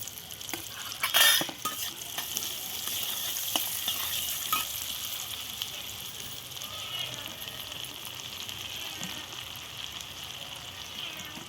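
Chopped onions fry lightly in hot oil for an egg curry, a dense, even sizzle up close with a brief louder burst of stirring near the start and occasional faint utensil taps.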